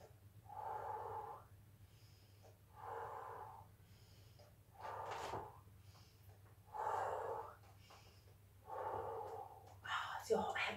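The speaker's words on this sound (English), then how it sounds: "We're going to breathe in through our nose and breathe out through our mouth." A group of young children in a yoga class breathe in through the nose and out through the mouth, producing five slow, evenly paced rounds of soft airy breaths with a low background hum.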